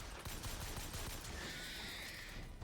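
Rapid bursts of gunfire in Bioshock Infinite, dense crackling shots over game noise, with a ringing tone rising partway through; faint and steady throughout without speech.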